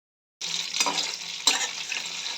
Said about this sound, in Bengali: এখন আমি মাছগুলো এক এক করে ভেজে নেব। ও মা গো, তেলের ছিটা মারছে।